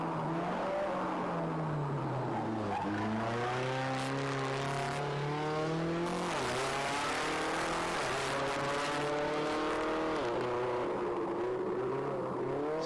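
A turbocharged Mitsubishi Evo rally car climbs the Pikes Peak hill climb course, its engine note rising and dropping through repeated gear changes and throttle lifts, steady and fairly close throughout.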